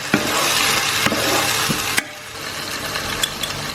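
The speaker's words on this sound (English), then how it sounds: "Mix that through. And I'm going to give the tomatoes a few minutes to cook." Tomatoes cooking in a curry pan with ground beef and potatoes nearby, a loud continuous sizzle and bubbling with a few knocks of a spoon stirring, easing slightly halfway through.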